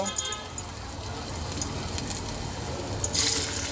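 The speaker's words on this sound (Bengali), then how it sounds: "তেলটা গরম হয়ে গেছে এখন আমি আলুগুলো দিয়ে দেব" Boiled potatoes go into hot oil in a pan, giving a loud, steady frying hiss with a bright crackling surge near the end.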